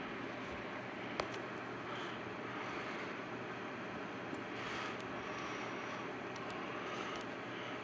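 Electric space heater with its fan motor running on the high setting, a steady broadband whirring rush that stays even and continuous throughout, with no voices.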